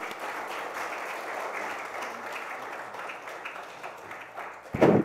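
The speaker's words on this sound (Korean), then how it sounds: "다시 한번 큰 박수로 목사님 환영하겠습니다" A church congregation at a revival service claps in dense, sustained applause to welcome the pastor, filling the room evenly for several seconds before a louder burst at the end.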